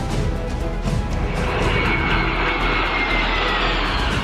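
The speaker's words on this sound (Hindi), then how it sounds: "भारतीय वायुसेना के इन दमदार विमानों और मेड इन इंडिया हेलीकॉप्टर ने हर किसी का मन मोह लिया।" A jet roars overhead at an Indian Air Force air show during the Tarang Shakti 2024 exercise in Jodhpur, a loud, steady, broad rush that holds throughout.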